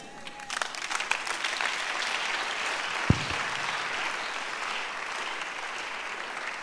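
A church congregation claps steadily throughout at a sermon on the spirit of Leviathan, a dense sustained wash of many hands with one sharp knock near the middle.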